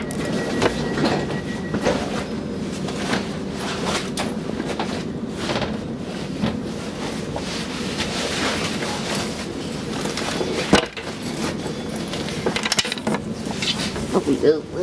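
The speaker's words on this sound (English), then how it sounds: "Empty train." A Southern passenger train service to Bognor Regis rolls along the rails, a loud rumbling ride with rhythmic clacks and mechanical rattles inside the carriage and a sharp jolt partway through.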